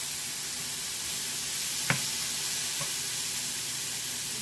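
White mushrooms frying in a pan make a steady, even sizzle with a faint hiss, broken by one short utensil click near the middle.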